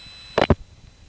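N3 family telephone carrier trunk going off hook, a quiet line where a brief double click or burst of noise stands out against faint hum and background hiss.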